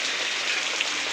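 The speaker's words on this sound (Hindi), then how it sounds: "खतरनाक से गिरत है पानी" Heavy unseasonal rain pouring down in a steady, dense hiss, close and constant without any voices.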